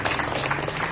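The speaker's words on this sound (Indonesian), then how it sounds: "Kita beri tepuk tangan." Brief burst of audience applause at a clinic inauguration ceremony in East Java, Indonesia, a short, close patter of many hands clapping.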